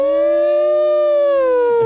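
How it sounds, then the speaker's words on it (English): Loud, steady siren tone with strong harmonics holding a sustained wail for about two seconds, slightly falling in pitch at the end, heard alone. "A siren started blaring."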